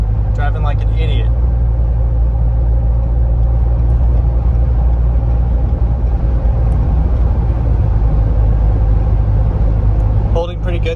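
Steady low rumble of a Ford Bronco's exhaust and road noise while cruising at 70 mph, loud and constant throughout, with someone talking over it briefly at the start and end.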